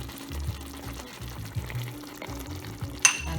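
Garlic goes into a pot of lamb stew, giving a short burst of sizzling and stirring with soft pulsing bubbles and a sharp clink near the end.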